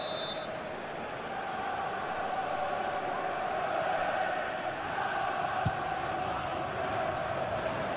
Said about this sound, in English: Crowd groaning